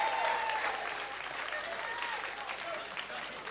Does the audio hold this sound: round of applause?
yes